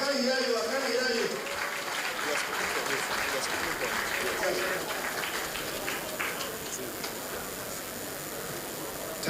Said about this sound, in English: Keep clapping for Barrister.